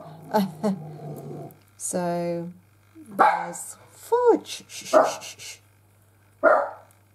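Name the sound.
dog barking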